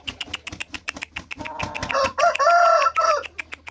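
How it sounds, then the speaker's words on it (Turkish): Brazilian and native Turkish chickens cluck in quick, repeated bursts, then a rooster's loud, drawn-out crow rises close by before the clucking resumes, with no voices. "Bende olan tavuklar bunlar. Brezil var, yerli var, yerli Brezil var."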